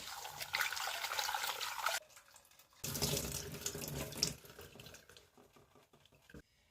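Tap water runs into a kitchen sink while potatoes are washed, a splashing flow in uneven bursts that cuts off briefly twice and trails into small drips and clatters near the end.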